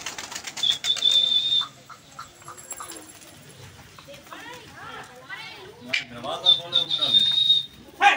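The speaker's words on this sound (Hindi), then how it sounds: "कबूतर नहीं उतरा उड़ के चला गया धड़ाके मार के जा रहा है वो" Wings flap in a brief flurry as a pigeon takes off from a rooftop, while people talk nearby and a high whistle sounds now and then.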